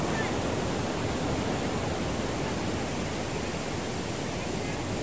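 Waves at Tondaligan Beach, a steady, even wash of surf with no pauses or distinct breaks, heard alone at a moderate level.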